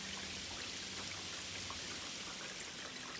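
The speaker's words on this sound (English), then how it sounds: "it's a heavy rain, you can see here it's still dripping over." Heavy rain spills and drips steadily off a gutter guard that fails to channel the water, a dense, continuous wash of close drops and pouring runoff with no voices.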